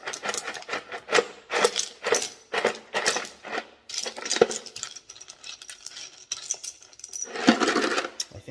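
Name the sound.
rock scraps dumped into tumbler barrel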